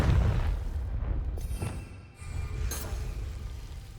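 A Confringo fire spell bursts in Hogwarts Legacy, a loud low booming blast with rumbling tail over steady background game noise, followed by further lighter impacts.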